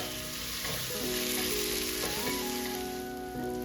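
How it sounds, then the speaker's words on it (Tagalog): Garlic sautéing in a pan for kinamatisang lechon pork belly gives a continuous loud, even sizzle with faint stirring, under a steady tonal background hum. "Tapos kasunod ng garlic. Igisa ng maayos yan para mabango."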